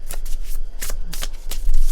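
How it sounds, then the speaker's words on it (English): Cards from an Animal Spirit oracle deck are shuffled by hand, a close, papery riffle of repeated slaps and flutters that runs steadily with no voices. "We're going to start right away with pulling a card from the Animal Spirit deck."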